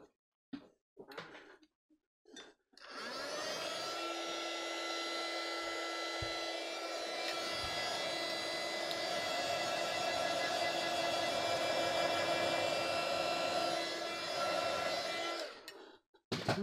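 A hair dryer blows steadily for about twelve seconds, drying metallic acrylic paint on a relief background, preceded by a few soft knocks and handling sounds before it switches on and cuts off at the end.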